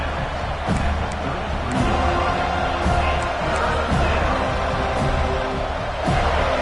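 Crowd at a Georgia versus FSU college football game in a stadium roaring loudly and continuously ahead of a big third down, a dense wash of distant cheering and shouting.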